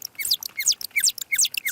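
Humpback whale song sped up fourteen times comes out as quick rhythmic chirps and tweets. The short rising and falling calls repeat about every third of a second, clear and fairly close, with no talk.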